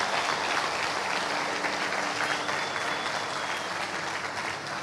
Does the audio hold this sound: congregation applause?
yes